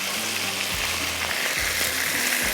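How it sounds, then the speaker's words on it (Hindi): Chicken fries in a pan with a dense, loud, continuous sizzle that fills the whole stretch, along with a few low clunks underneath and no talk. "यहाँ पर ये चिकन जो है हमारा हो रहा है फ्राई"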